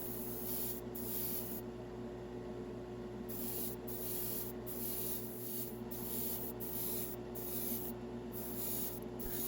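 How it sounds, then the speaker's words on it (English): Trigger-style airbrush spraying paint onto miniature US Airborne figures, a steady close airy hiss running throughout with faint, brief breaks where the trigger eases. "Using this trigger style airbrush did take a little time to get used to"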